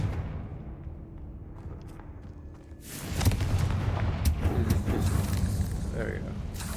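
A Confringo fire spell in Hogwarts Legacy ends in a sudden explosive boom about halfway through, followed by a rumbling, crackling blast that continues to the end while a voice speaks.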